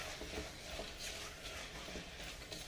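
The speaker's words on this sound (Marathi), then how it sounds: "आता ह्या मिठामध्येच थोडंसं असं परतून घ्यायचं आहे व्यवस्थित ओल्या हरभऱ्यांना आणि कणसाला असं लागलं जाईल मीठ" Fresh green chickpeas and corn are stir-fried with salt in a pan, giving a faint continuous sizzle with soft scraping stirs throughout and no talking.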